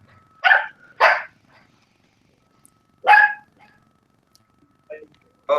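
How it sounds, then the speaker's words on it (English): A dog barks indoors: two quick barks, a pause, then one more sharp bark, with faint short sounds trailing afterward in an otherwise quiet room. "sounds like my fucking dog, dude."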